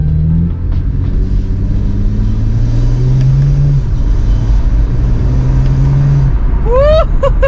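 BMW 335i with a catless VRSF downpipe exhaust driving along, a steady loud engine drone with rising pitch as it pulls, and a sharp turbo spool whistle sweeping upward near the end.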